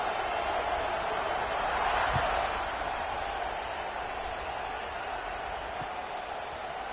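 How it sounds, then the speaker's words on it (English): Crowd noise in an American football video game, a steady broadband roar of cheering that swells briefly around two seconds, then settles into a sustained buzz. "this crowd is buzzing after that last score"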